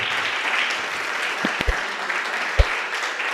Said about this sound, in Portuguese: Aplauda o Senhor Jesus aqui nesta noite.